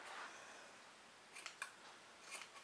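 Scissors snipping off excess fabric while sewing a handbag, a few faint, quiet cuts spaced out over a soft background hiss.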